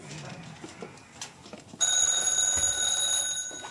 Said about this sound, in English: See who that is on the phone.